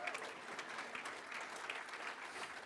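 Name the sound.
audience applause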